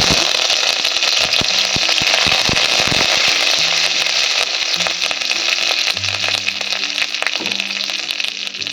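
Dried red chilies, cumin and curry leaves sizzling and spitting in hot oil in a pan for lentil dal, a loud continuous close-up crackle with scattered pops and clatters.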